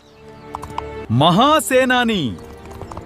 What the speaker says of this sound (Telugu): ఇది మామూలు గుర్రం కాదు